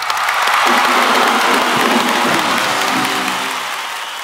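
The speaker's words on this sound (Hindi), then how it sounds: "इन सबके लिए जोरदार तालियां हो जाएं।" A television comedy show's studio audience breaks into loud, dense clapping that swells quickly, holds steady and gradually thins toward the close, with no voices on top.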